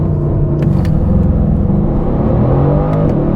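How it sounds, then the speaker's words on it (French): A Mercedes-AMG GT S coupé V8 surges through a full-throttle launch-control start, a loud, continuous engine roar climbing steadily in pitch from inside the cabin with no talking. "Et là, je vais accélérer à fond."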